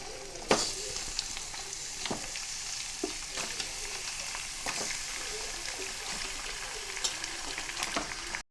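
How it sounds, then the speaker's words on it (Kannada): Chicken pieces sizzle and fry in masala in a pan for a Tulunadu-style chicken gasi sukka, a steady crackling hiss with occasional sharp clicks and spatters, moderately close and without any voices. "ನಾವು ಇದಕ್ಕೆ ಚಿಕನನ್ನು ಆ್ಯಡ್ ಮಾಡುವ."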